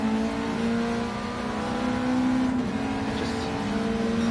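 TCR touring race car in a sim racing game, engine held at full throttle: a loud, steady high-pitched drone with a slight pitch rise and dip, continuous and close, with no voices.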